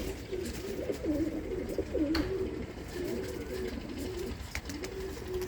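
Domestic homing pigeons in a home loft coo in repeated low, warbling phrases throughout, fairly close and steady, with a few brief clicks and faint background noise.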